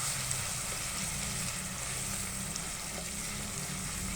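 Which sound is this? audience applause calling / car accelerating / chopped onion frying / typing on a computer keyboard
chopped onion frying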